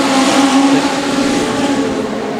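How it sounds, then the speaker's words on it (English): A pack of Legend race cars, leaders among lapped cars, roars through turns 3 and 4 of an oval in a loud, steady engine drone that lasts throughout. "So there's a gaggle of cars that are coming through 3 and 4 now"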